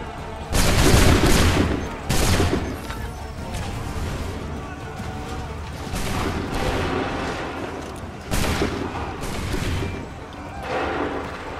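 Musket volleys crash out in the video game Assassin's Creed III, several loud, rolling bursts of massed gunfire spaced a few seconds apart over a constant battle din.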